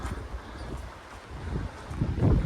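Strong gusting wind buffets the microphone on a coastal footpath near Looe in south-west England, a low rumbling roar that swells and builds toward the end, with no talking.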